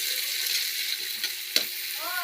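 Garlic, onion and tomato sautéing in a pan, a steady close sizzle with light stirring clicks and a sharp scrape, no speech.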